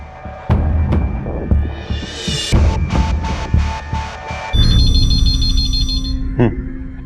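A phone rings with an incoming call from a police station, a loud repeating electronic tone over a busy, dramatic backdrop of music and hum, switching to a higher buzzing trill midway.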